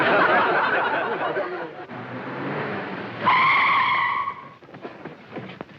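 A car from a 1943 American comedy brakes hard and skids to a stop, a long rushing tire scrape that ends in a short sharp squeal, followed by fading rattles and clunks.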